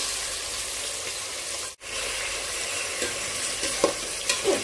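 Chicken stirred and sautéed in a pan for pininyahang manok sa gata, with a steady close sizzle and scraping stirs throughout and a brief dip partway through.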